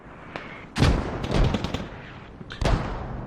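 Mortar rounds strike in the tactical shooter game Squad: two heavy booming impacts with crackling debris between them, loud and fairly close, no voices over them.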